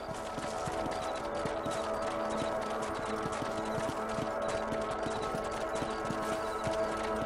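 Several horses trot steadily on a ranch, their hooves clip-clopping in a continuous, fairly close rhythm with an occasional whinny and no talking.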